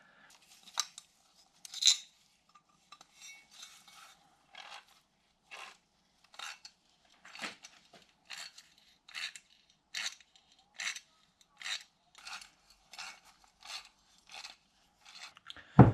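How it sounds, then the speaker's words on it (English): Hand tap cutting threads into metal on an International 4700 truck, a series of short, evenly spaced scraping crunches repeating as the tool turns, close and fairly quiet with no talk. "So I'm going to cut some threads in there."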